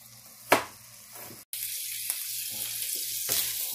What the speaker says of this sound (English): Okay guys, the sausage is still cooking. It's almost done.